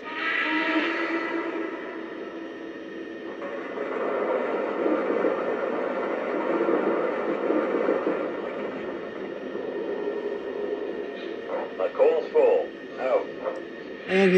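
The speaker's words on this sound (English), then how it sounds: "here is the sound of coal being loaded" Coal loading effect from a Lionel Vision Line N&W Class A No. 1218 model steam locomotive: a continuous gritty, rumbling rush from a small onboard speaker, ending with a cluster of short clattering bursts.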